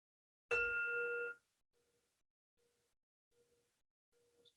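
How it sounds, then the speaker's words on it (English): A meditation bell is struck once to close a short mindfulness meditation, ringing loud and clear with a bright sustained tone that cuts off after about a second, then quiet with faint soft sounds afterward. "Ring that bell to mark the end of that short meditation."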